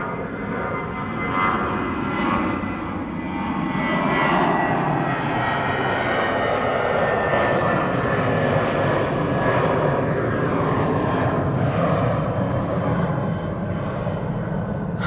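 A British Airways jet bound for London climbs out of Amsterdam Schiphol with a loud, continuous engine roar that swells slightly and carries a faint whine, heard alone without speech.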